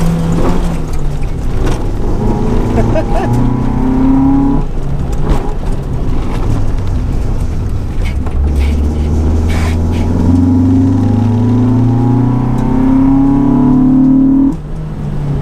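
A modified Honda race car climbs a hill, heard from inside as its engine revs up through rising pulls and drops with each gear change, loud and close and with no talking.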